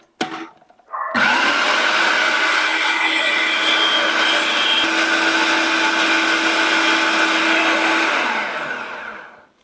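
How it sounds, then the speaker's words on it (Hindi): A kitchen blender whirs loudly and steadily, grinding garlic with cooking oil into a paste, starting after a brief clatter and running continuously for several seconds before winding down. "अब लहसुन मुकम्मल तौर पर चॉप हो चुका है या ब्लेंड हो चुका है।"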